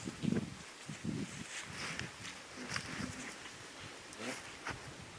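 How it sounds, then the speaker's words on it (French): Tree leaves rustling in the wind outdoors, a soft, uneven hiss of moving foliage with faint low thumps and scuffs, fairly quiet and steady throughout with no speech. "il y a un arbre qui fait du bruit là avec le vent"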